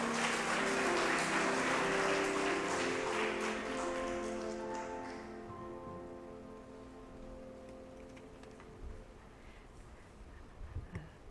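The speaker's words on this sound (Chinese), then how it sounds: "我们拍手来欢迎雅茹传道" A church congregation claps at a Sunday worship service to welcome a departing preacher: dense, steady applause, loud at first, thinning out and fading after about five seconds, with sustained musical tones underneath.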